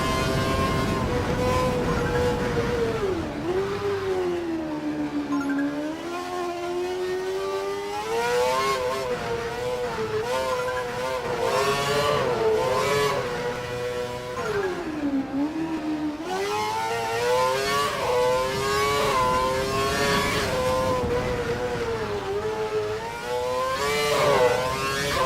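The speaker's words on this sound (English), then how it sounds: "I want you to drive the last sector of the lap and hit every apex" Formula One car from the F1 2012 video game lapping a wet track, its high engine note rising and falling steadily through gear changes and corners, loud and continuous with no talk.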